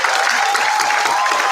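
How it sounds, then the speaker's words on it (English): Applause from an audience at a township council meeting honoring sports league coaches, players and parents, a brief burst of steady clapping with no voices. "So a round of applause to everybody."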